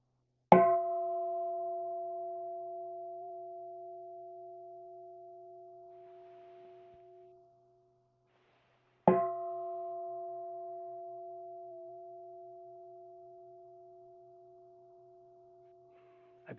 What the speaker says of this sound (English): Give all your attention to the sound of the bell.